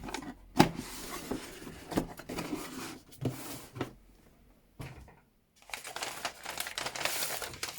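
A plastic bag from a diamond painting Advent box being opened, with crisp crinkling and rustling bursts, a brief quiet pause, then more close crinkling handling.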